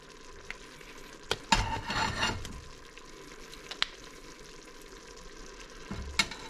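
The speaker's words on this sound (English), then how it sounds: "give it a stir" A spoon scrapes and stirs split pea and ham soup in a pot, with a short burst of scraping early on, a few sharp clinks against the pot, and quiet bubbling in between.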